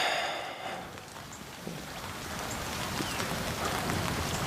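Steady rain falls outdoors on a farm, a dense, even hiss that holds at a moderate level throughout with no voices.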